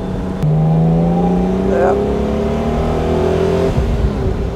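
A restored 1969 Mercedes 280 SL Pagoda with four-speed manual gearbox revs up and pulls hard accelerating uphill, its engine pitch rising, with a short spoken word over the loud motor.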